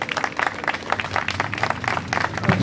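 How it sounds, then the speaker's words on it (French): A crowd at the opening celebration of Charleroi village du monde applauds steadily, a dense patter of many hands clapping at close range for the whole stretch without pause. "Tout le monde va applaudir très fort."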